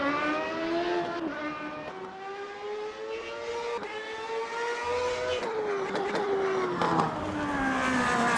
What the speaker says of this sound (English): I've not heard the tyres that loud